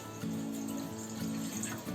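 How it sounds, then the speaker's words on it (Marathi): Water pours steadily from a tap into a pot set on a gas stove, a short continuous splashing rush with no talk. "त्यात पाणी टाकते."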